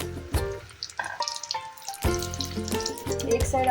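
Batter-coated eggplant slices deep fry in hot oil in a kadhai, a bubbling sizzle that swells and fades in bursts, close, with some tonal clatter and no talk.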